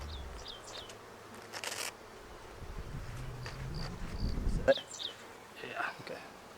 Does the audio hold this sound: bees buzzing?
yes